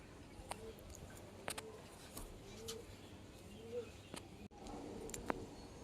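Pigeons kept by a fancier coo in soft, low, repeated calls at a moderate distance, with brief clicks and faint voices in the background.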